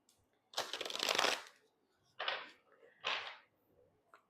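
A Cosmic Tarot deck is shuffled by hand, with one long riffle-like burst followed by two shorter bursts and a faint final tap, close and clear in a quiet room.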